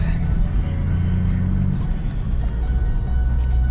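A car cruising along a highway near a town in Yakutia gives a steady, close, low engine and road rumble throughout, with faint muffled voices in the cabin.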